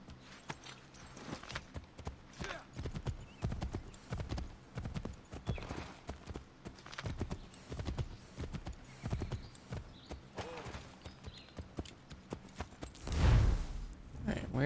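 A horse's hooves clip-clop at a walking rhythm in Assassin's Creed III Remastered, steady and close, running beneath someone talking over the game.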